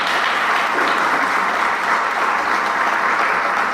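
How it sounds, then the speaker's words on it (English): A city-hall audience at a 2019 State of the City address in San Gabriel applauds for staff, a steady, dense wash of clapping that holds evenly throughout without voices. "Please give them a round of applause."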